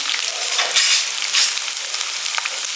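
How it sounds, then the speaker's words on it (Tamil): Garlic cloves sizzle steadily in hot oil in a pan, a loud, close, continuous frying hiss with small crackles and brief swells as the pieces are stirred. "வெள்ளைப்பூடு வந்து கொஞ்சம் நல்லா வதங்கட்டும்"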